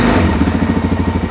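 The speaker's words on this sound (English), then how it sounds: "I'll show you what it sounds like if you actually try to start it" A Suzuki DRZ400 motorcycle engine running on choke just after starting, with a loud, close, throbbing idle that pulses in quick uneven beats.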